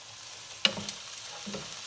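Carrots, beans, mushrooms and white onions frying in a pan, a soft steady sizzle with a few light clinks of stirring, quiet and close, no voices.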